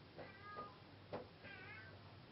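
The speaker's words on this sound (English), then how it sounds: "That's my cat" A cat meows several times in short, plaintive calls, heard indoors at moderate distance with quiet surroundings between cries.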